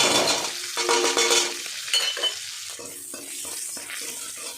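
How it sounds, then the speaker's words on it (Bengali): Garlic and dried red chillies sizzle in oil left from frying fish, with a steady close crackle and some light scraping in the pan. "ওই মাছের তেল ভাজা তেলে রসুন আর শুকনো লঙ্কা ফোড়ন দিয়ে দেবো।"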